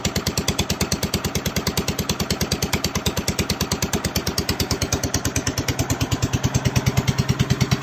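An International Harvester Cub Cadet 102 tractor's engine runs close by with a rapid, even, thumping putter that holds steady and grows slightly louder and deeper near the end.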